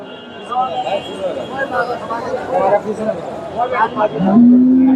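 Desi and Sahiwal cross cows at a busy weekly cattle market low and moo, with one long moo near the end, all under steady crowd chatter and voices nearby.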